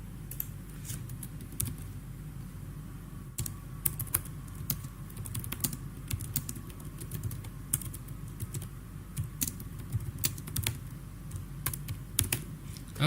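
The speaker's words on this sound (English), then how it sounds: "since I'm typing this up" Rapid, irregular clicking of keys on a computer keyboard, faint and close, continuing steadily over a low room hum with no talk.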